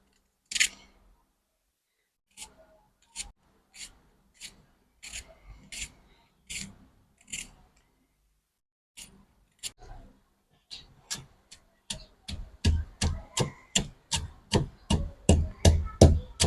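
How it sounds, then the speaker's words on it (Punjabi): A knife chops onions on a cutting board for a mango and bitter gourd dish. Sparse single chops speed up into a quick, steady run of close, crisp knocks toward the end. "ਹੁਣ ਆਪਾਂ ਕੱਟ ਲਾਂਗੇ ਗੰਡੇ"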